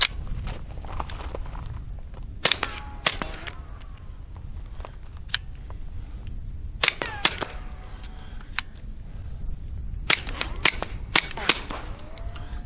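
Suppressed .22 pistol, a Walther P22Q, firing CCI ammunition outdoors: a few sharp, fairly quiet reports in irregular clusters with brief pauses between, plus faint handling clicks and ambient noise.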